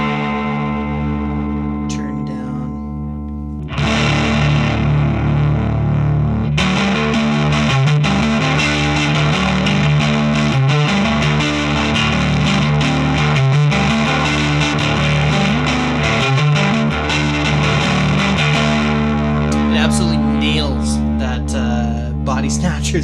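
Guitar through an effects pedal on one of its distortion settings, a thick fuzzy chordal riff that swells in after a quieter start and sustains loudly, with a voice talking at the edges.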